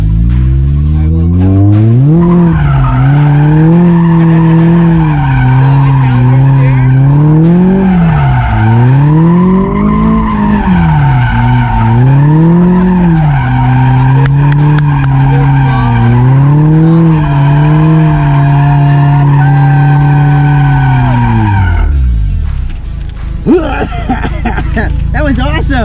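A Mazda Miata ND drifts with a continuous engine note that swells and dips under throttle modulation and tire squeal through a long sustained slide, then cuts off abruptly. Voices talk over it.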